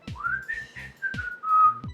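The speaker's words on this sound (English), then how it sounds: "I'm a terrible whistler." Someone whistles a short commercial jingle close by, a few clear sliding notes in quick succession.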